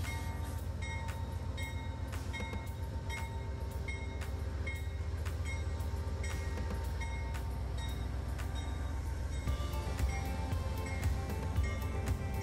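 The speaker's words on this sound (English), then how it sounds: "Train 21 wraps up its smoke stop and carries on out of Austin." Amtrak passenger train 21 pulling out of Austin, Texas, after a smoke stop: steady rumble and rhythmic clatter of wheels over rail joints, with a brief louder surge near the end, heard from on board with no talk.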